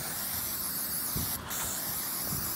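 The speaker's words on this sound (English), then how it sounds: "I'm gonna give the whole pit a good spray." A steady, close spray of canola oil hisses continuously from an aerosol can onto a rusty fire pit, briefly pausing once before the spraying resumes.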